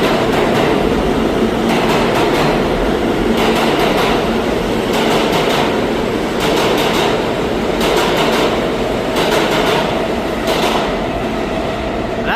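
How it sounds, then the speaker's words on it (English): A New York City subway train rumbles loudly and steadily on the tracks, with a continuous broadband roar and periodic rhythmic clatter pulsing through it, close by and without talk. "there's a train coming right here now"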